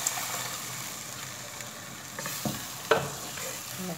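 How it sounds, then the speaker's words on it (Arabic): Meat sizzling and frying in a pan, a steady quiet hiss with occasional stirring scrapes and clinks, no voices. "دركا راح نمرق هذا اللحم تاعي ونخليه يطيب"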